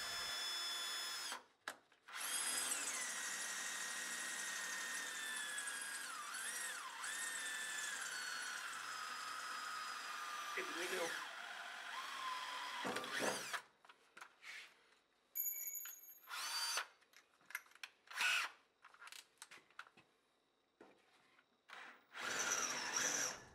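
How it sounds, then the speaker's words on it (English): A power drill with a stainless steel bit boring a 4mm hole for a junction box on a load cell's stainless steel cover, a long whining run followed by several short bursts and pauses. "Drill a 4mm hole with a stainless steel drill."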